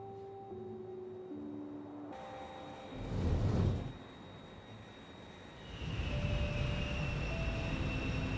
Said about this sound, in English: Let's send the train again.